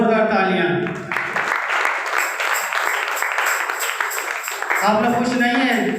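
Audience applause at a one-day church seminar, a dense, steady wash of clapping through the middle of the clip, with a voice speaking at the start and again near the end.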